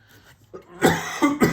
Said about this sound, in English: We've got a lot of forest fires and it's making me cough